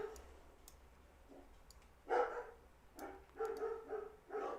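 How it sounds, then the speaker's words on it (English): Several sharp dog barks from a distance, coming in short bursts over a quiet background with faint clicking. "And the dogs are barking."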